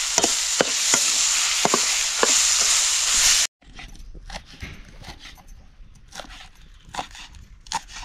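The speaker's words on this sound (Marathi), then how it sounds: "आता भरीत चांगलं परतून झालंय. कांद्याची पात टाकू, मिसळून घेऊ." Eggplant bharit with chopped spring onion being stirred in a hot pan: a loud, steady sizzle with repeated spoon scrapes and clicks, then it drops to a quieter patch of intermittent scraping and stirring with no talk.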